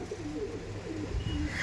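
Pigeons in a crowded loft give a soft, low cooing, faint and continuous over a brief stretch with a little background rustle.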